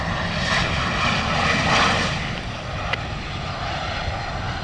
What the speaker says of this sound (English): This is a NetJets flight, I'm pretty sure.